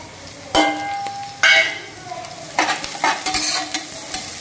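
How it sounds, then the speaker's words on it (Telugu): Finely chopped onions fry in a pan with a soft background sizzle, punctuated by several sharp stirring bursts and scrapes from a spoon, close up with no talking. "మనం చిన్నగా కట్ చేసుకోవడం వల్ల తొందరగా ఫ్రై అయిపోతాయి అన్నమాట ఆనియన్స్ అయితే"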